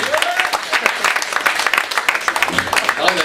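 Comedy club audience in Swansea clapping steadily and fairly close, a dense patter of hands that carries on without a break, with some voices mixed in.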